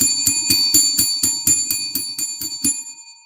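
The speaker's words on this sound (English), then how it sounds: "Let's ring the bell for Diva." A bell is rung for a birthday, a steady run of about a dozen rapid bright metallic strikes with a sustained ring beneath, close and clear with no talking over it, fading at the end.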